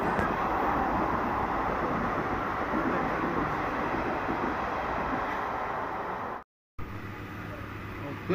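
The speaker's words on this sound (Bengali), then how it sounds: "চেন্নাই মেল পাস করার পরেই আমাদের ট্রেন ছেড়েছিল" A train pulls out of Howrah station with a steady, broad rumble of wheels and carriages that holds loud and constant, then cuts out for a moment near the end.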